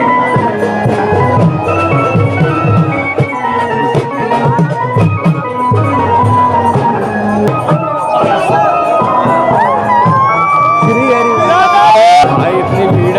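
A large, dense crowd mills about at the Barsana Holi festival, a loud continuous babble of many voices with shouts and music mixed in, while someone nearby talks over the din.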